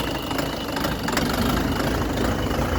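A steady, low engine of a 2023 Bulat 504 tractor idles close by, with a continuous rumbling knock and no voices.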